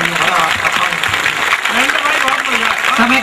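Audience applause at a Hindi comedy poetry recital, a continuous crackle of clapping from the crowd with a voice speaking over it throughout.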